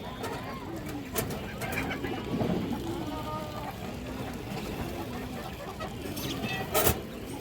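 A domestic pigeon coos in low, repeated rolling calls close by, several phrases in a row over faint background noise, with a couple of sharp handling clicks near the end.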